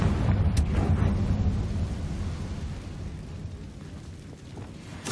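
Explosive Confringo fire spell blast in Hogwarts Legacy, a loud, sustained rumbling roar that fades gradually with no one talking.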